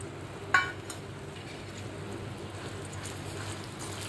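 Squeezed soya chunks crackle and sizzle softly in hot oil while being stirred, a steady low frying hiss with one sharp clink of the spoon near the start.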